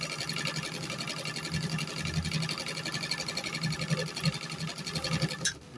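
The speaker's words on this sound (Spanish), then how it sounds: "Aquí estamos cosiendo Dacron en doble capa con aguja número 8012" A vintage Pfaff 30-31 sewing machine stitches double-layer Dacron with a size 80/12 needle, a steady close mechanical whir with rapid stitch rhythm running throughout, stopping abruptly near the end.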